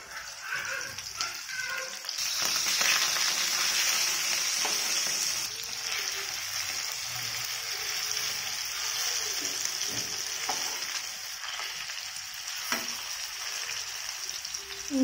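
Fish frying in a pan for meen kulambu, a steady bright sizzle and crackle of hot oil running throughout, with occasional scraping and a few faint background barks.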